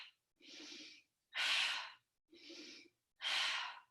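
Deep, forceful breaths during a core workout, alternating rushing exhales and inhales in a steady rhythm, four bursts close and loud with no talking.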